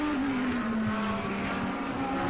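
A race car drives through the S-bends at a circuit under overcast skies, its engine a steady, loud drone with a shifting pitch throughout, no voices present.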